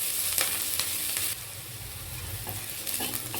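Cauliflower pieces for gobi Manchurian fry in a pan until golden brown, giving a loud steady sizzle close by with occasional stirring scrapes and clatter.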